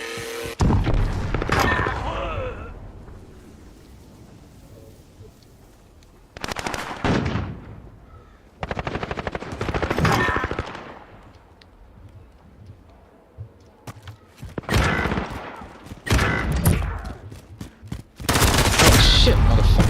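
Bursts of video game gunfire ring out in several loud clusters, each a quick run of shots separated by quieter stretches, with a final heavy burst at the end.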